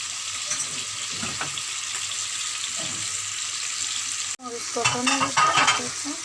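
Spices fry in a pan with a soft, steady sizzle, then after a brief break the stirring grows louder with clattering strokes over the hot oil.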